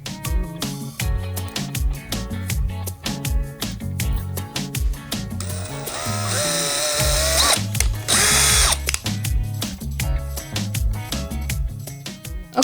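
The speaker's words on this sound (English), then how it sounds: "I am going to drill out a little hole" A power drill bores a small hole for fitting a hinge during an entryway makeover, its steady whine rising in loud bursts among clicking ratchet-like clatter, with one long sustained run near the middle.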